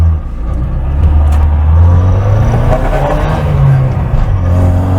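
An Opel Manta B2 16v accelerating on the road, its engine note rising steadily and loud from close by inside the car, with a continuous low rumble and climbing revs throughout.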